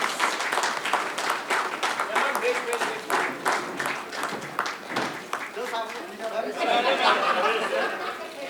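At a press conference for the film Jeena Isi Ka Naam Hai, a crowd gives a steady round of applause as actress Manjari Fadnis comes on stage, mixed with chatter and a little laughter.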